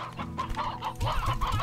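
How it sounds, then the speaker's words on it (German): Chickens cluck in the video game Slime Rancher, several short bursts of close, busy clucking overlapping one another with no talk. "Gut, hier haben wir dann ein paar Hühner drin."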